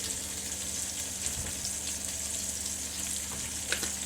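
Sliced onions and red pepper flakes fry in a pan with a soft, steady sizzle and faint crackles that last throughout at low volume.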